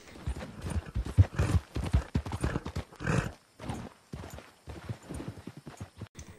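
Horse hooves clip-clop in a video game, uneven bursts of close hoofbeats with a brief whinny mixed in, rising and dropping across the few seconds.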